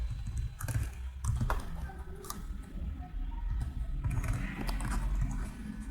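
Rapid, steady typing on a computer keyboard, with close, quiet key clicks in an irregular stream and no talking.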